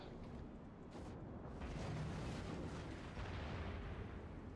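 Naval gunfire strikes a Montana battleship in the World of Warships video game, heard as a quiet, continuous rumble of overlapping booms and bursts with no talking.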